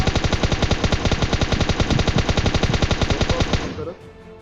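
Rapid automatic gunfire from a weapon in the battle royale game PUBG Mobile, a dense burst of evenly spaced shots lasting several seconds before cutting off abruptly, loud and close.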